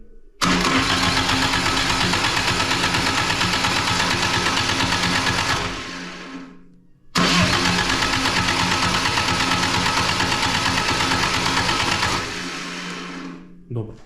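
An FSO Polonez with a swapped-in BMW M43B18 engine cranks on the starter in two long, loud bursts of about six seconds each. A short pause separates the bursts, and the engine never catches.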